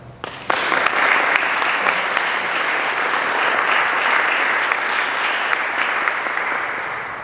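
An indoor audience claps to welcome Chief Donald Maracle to a heritage talk, a sudden burst of dense, steady applause that swells quickly and holds loud for several seconds before easing slightly.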